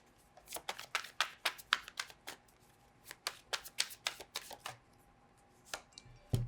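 Tarot cards being shuffled by hand in a quick series of crisp, papery riffles and slaps, close and fairly quiet, with short pauses between bursts and no talking.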